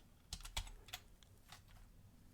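Keystrokes on a computer keyboard while working in a Linux terminal on an Orange Pi 5B, a handful of separate, fairly faint clicks spread unevenly over a couple of seconds against a quiet room.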